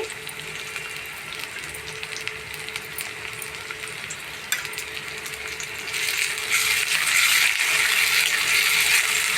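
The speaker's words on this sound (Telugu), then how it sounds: "ఉల్లి వేగుతుందండి" Onions frying in a pan for a Telugu boti and brinjal curry, with green chillies and fresh ginger-garlic paste added; a steady close crackling sizzle with faint scraping stirs that grows louder and fuller near the end, no talking.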